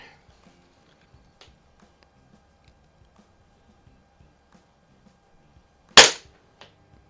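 A Diana 24 air rifle is fired indoors, a single sharp snapping shot near the end, close and loud, followed by a faint click, with near silence and light ticking before it.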